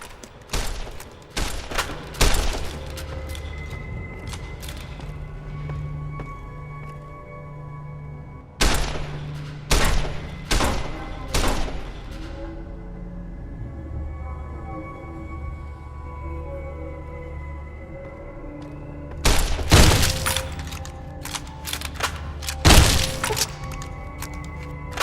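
Gunfire from the Fallout New Vegas video game, where rapid bursts of sharp cracks and thuds arrive in three clusters separated by quieter stretches of low ambient game sound and music.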